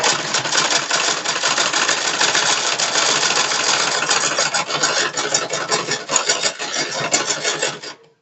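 A sewing machine runs steadily for about eight seconds, stitching a sleeve seam on a cone-style long sleeve, with a dense, continuous whirring rasp that stops abruptly at the end.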